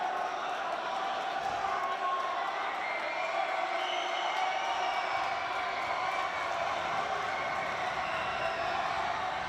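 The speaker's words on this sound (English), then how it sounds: "The crowd comes to life" A basketball crowd cheers and roars steadily throughout a 2017 MIAA tournament first-round game, Milford at Marlboro, with a busy, dense murmur and voices talking over it.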